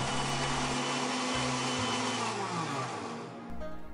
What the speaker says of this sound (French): on mixe bien l'ensemble comme pour un smoothie